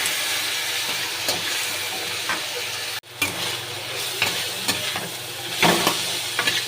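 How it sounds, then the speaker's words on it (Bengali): Spices with Kashmiri chilli powder and a splash of water sauté and sizzle in a pan while making a Bengali hilsa fish head curry, a steady hiss broken by a few scraping stirs and one brief interruption midway. "এটাকে এবার একটু কষে নেব।"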